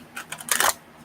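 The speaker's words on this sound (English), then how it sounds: "Just kind of shuffling these cards." A deck of tarot cards is shuffled by hand, giving a brief close run of soft papery flicks that builds into a quick riffling burst and then stops, with no voices.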